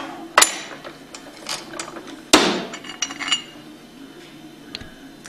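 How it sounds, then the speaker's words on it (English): A bearing is pressed out of a Pentair Hypro roller pump: two sharp metallic knocks a couple of seconds apart, followed by light clinks and scraping of metal parts, close and clear. "And then press your bearing out."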